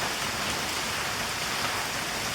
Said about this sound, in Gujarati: વરસાદ બહુ સરસ ચાલુ છે અહીંયા